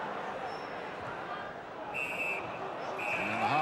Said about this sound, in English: And the half-time whistle goes